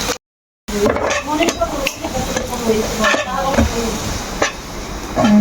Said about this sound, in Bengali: পেঁয়াজ ভাজা হয়ে গেছে আমার